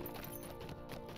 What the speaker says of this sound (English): I'm getting off this fucking horse.